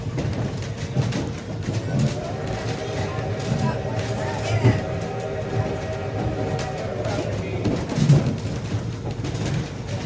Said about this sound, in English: you can hear the train blowing its whistle again